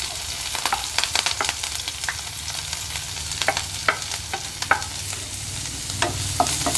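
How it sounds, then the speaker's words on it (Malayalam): Sliced onions and green chilies fry in hot oil for egg porotta, a loud, close crackling sizzle dotted with quick stirring clicks and scrapes throughout, and no one talking. "എണ്ണ ചൂടായിട്ടുണ്ട്. നമുക്ക് സവോളയും പച്ചമുളകും കൂടി ഒന്നിച്ച് ചേർത്തിടാം."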